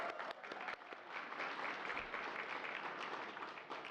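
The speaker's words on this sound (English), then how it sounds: "Yes, let's clap for them too." Steady applause from a large crowd fills a White House room at the 2023 holiday decorations unveiling, a dense wash of clapping that continues evenly throughout.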